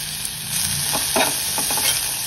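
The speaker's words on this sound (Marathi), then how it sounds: "मसाले परतून घ्यायचे" Asafoetida, turmeric and chilli powder sautéing in a pan with green chillies, a loud steady sizzle close by, with a few scraping stirs near the middle and no talking.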